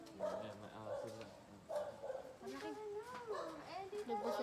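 A dog barks and yips several times at a sleepover at home, mixed in with children chattering and talking close by.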